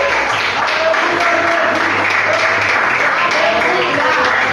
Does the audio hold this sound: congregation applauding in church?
yes